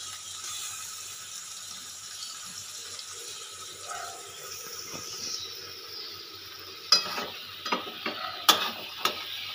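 Spice masala with a little sugar and garam masala being stirred and fried in a pan, a soft steady sizzle with louder spoon scrapes and clinks toward the end.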